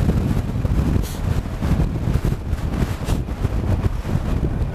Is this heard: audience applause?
no